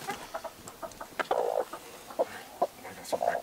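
Chickens cluck in a backyard chicken coop in short, irregular bursts, close and fairly quiet, with a few louder squawks scattered through.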